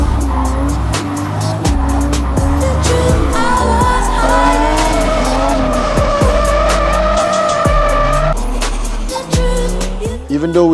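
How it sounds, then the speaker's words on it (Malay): Drift car sliding around APD Circuit, tires squealing in long loud wails over a roaring, revving engine, with repeated throttle blips and shifts throughout. "I kept drifting till it was perfect."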